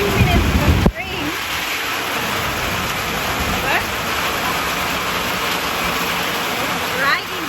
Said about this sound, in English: Just a few minutes of rain.